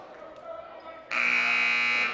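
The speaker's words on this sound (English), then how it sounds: "Buzzer sounds, Troyer in, Leatherman out for the Bulldogs." Loud, sustained electronic buzzer at a girls high school basketball game, cutting in abruptly after a second of gym noise and holding a steady harsh tone to the end, with crowd and commentary sounds around it.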